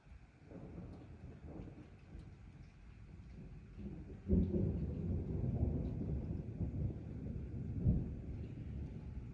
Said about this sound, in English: Yep, here's the rain